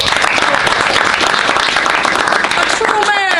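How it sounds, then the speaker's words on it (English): An audience at a school senior event gives a round of applause, dense and steady clapping filling the room throughout with crowd noise and some voices mixed in. "So round of applause for Noah."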